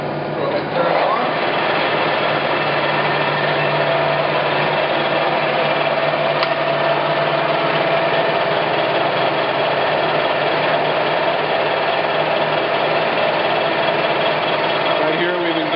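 A 17 by 80 inch Clausing Colchester 1780 engine lathe with a 3-jaw chuck runs steadily, giving a loud, continuous mechanical whir and hum with faint whine, close and unbroken throughout.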